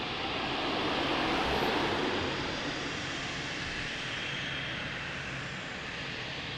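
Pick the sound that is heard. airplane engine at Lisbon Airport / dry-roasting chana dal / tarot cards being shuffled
airplane engine at Lisbon Airport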